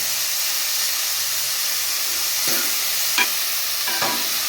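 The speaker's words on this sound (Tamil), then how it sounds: "தக்காளி வதங்கிறதுக்கு கொஞ்சம் உப்பு போட்டுக்கலாம்." Tomatoes sautéing with salt in a pan for a brinjal fry, a loud steady hiss of sizzling oil with a few brief stirring scrapes, close by.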